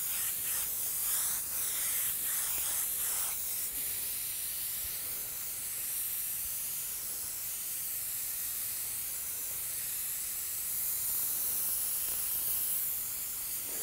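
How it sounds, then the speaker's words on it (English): A spray gun lays down candy red paint with plenty of air and little paint, giving a steady, close, unbroken hiss with a few short bursts at the start before it settles into one continuous spray. "Spray a lot of air, a little bit of paint."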